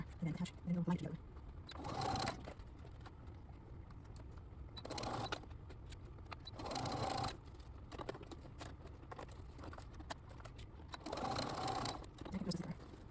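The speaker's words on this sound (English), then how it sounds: "So now let's go to the sewing machine." A home sewing machine stitches the zipper onto a patio chair cushion with cording, running in three separate bursts of steady motor whir between quieter pauses, fairly close and loud.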